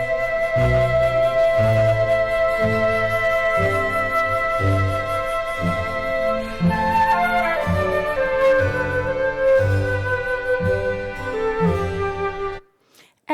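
Sonified cosmic sound waves from a treble-heavy universe, rendered as a bright, busy musical texture of repeating tones with emphasis on higher notes, sustained loudly for about twelve seconds before cutting off abruptly.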